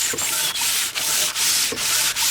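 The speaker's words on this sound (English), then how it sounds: "and that will burnish the wood, give it a little bit of a polish." A handful of wood shavings is rubbed up and down over freshly chiseled wood to burnish it. The result is a steady, close, loud rasping scrub in even back-and-forth strokes, about five per couple of seconds, with no voices.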